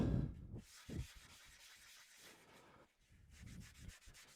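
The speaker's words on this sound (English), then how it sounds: "The hand sanding is tough." Quiet, uneven rubbing strokes of hand sanding on a turned wooden bowl, close by, in short irregular bursts with brief pauses between them.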